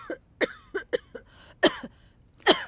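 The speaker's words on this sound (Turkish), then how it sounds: "sen çok kötü öksürüyorsun" A woman with a cold coughs badly, about six harsh, close coughs spaced irregularly with short quiet gaps between them.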